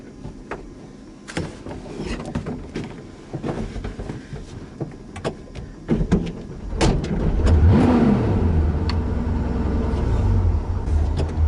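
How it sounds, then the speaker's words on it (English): A loud Porsche Carrera RS engine sputters and catches, then revs up with a rising roar and settles into a deep, rumbling idle, close by. "Now, this car is loud, it's low, and it's obnoxious."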